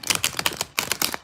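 New, thin tarot card deck being shuffled, a quick run of crisp riffling clicks in two bursts, close and fairly loud with no talking.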